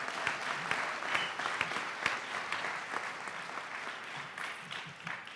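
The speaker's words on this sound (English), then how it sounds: "I think that deserves another round of applause." Audience applause at a foundation grant announcement, a fairly faint but steady round of clapping with some individual sharper claps standing out, lasting several seconds and heard without talk.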